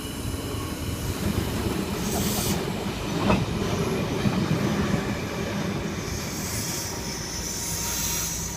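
Sydney Trains set S65 rolls past at night at Auburn station, a steady rumbling roar of wheels on rail with faint squeals and clicks, fairly loud and continuous with no voices.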